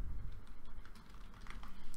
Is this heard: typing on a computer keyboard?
yes